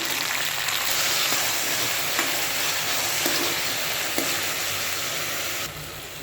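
Crushed banana stem fries in two tablespoons of oil in a pan, giving a loud, steady crackling sizzle throughout. Faint stirring scrapes sit under it, and the sound drops slightly just before the end.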